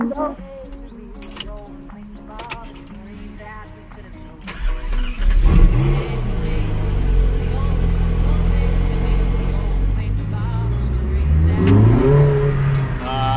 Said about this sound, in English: It's my first time driving a Ferrari. Wow! So this is the 458 Speciale.